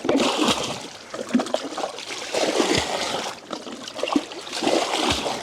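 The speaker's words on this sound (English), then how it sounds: "now the arduous task of getting all the water out" Water being bailed out of a swamped boat on a mountain farm, with repeated splashes and sloshing pours in an irregular rhythm, close and fairly loud throughout.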